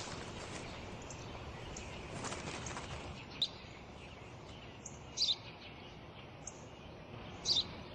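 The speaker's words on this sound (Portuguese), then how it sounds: "Eu já disse, pai. É um pardal." A sparrow gives a few faint, brief chirps, spaced several seconds apart and heard over a constant hissing outdoor background.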